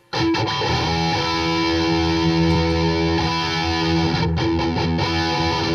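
A distorted electric guitar plays straight through the amp with the effects loop off. Loud, thick sustained chords ring after a sharp attack, with a few choppy restrikes near the start and end, and no talking.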